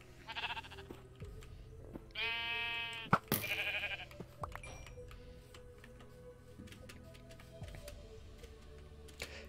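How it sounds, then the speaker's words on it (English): A sheep in a video game bleats a few times, short and wavering, over a quiet background with faint ticking sounds. "Where'd that burning sheep go?"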